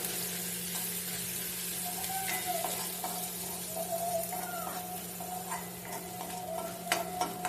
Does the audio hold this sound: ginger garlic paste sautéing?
yes